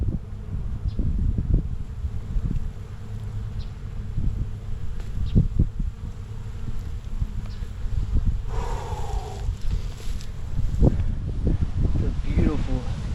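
Wild bees from a hive being transferred layer by layer into a box outdoors, their buzzing droning steadily in the background while someone talks nearby and wind rustles throughout.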